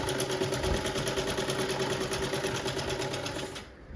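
A sewing machine stitches down the half-inch folded margin of a dupatta with a rapid, even mechanical chatter, running steadily close by before stopping just at the end.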